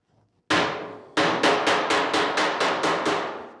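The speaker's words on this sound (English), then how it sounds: "I'm holding the dolly towards me and I'm hitting off the dolly, like on the other side of the dolly" A hammer strikes a welded steel panel off the dolly to pull down warping on a 1940 Ford-inspired body: one sharp blow, a pause, then a steady run of about nine evenly spaced metallic hits, close and loud.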